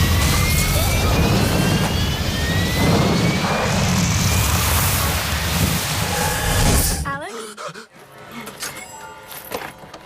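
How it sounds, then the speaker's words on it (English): Passenger plane exploding in the Final Destination film: a loud jet-engine roar builds for several seconds, then cuts off abruptly into near silence with scattered faint noises and talk afterward. "plane's gonna explode!"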